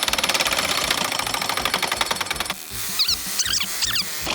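Saw blade ripping fast through wood with a big knot, a loud, dense buzzing grind for over two seconds, then a lower rumble with a few sharp, squealing scrapes near the end.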